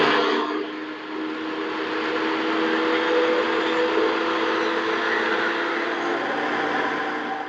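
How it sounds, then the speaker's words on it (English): A blender whirring as it blends oats, a steady loud motor hum with a bright grinding roar that holds evenly for several seconds and eases slightly at the end, with no talk. "So we're going to cover our blender and then we're going to blend."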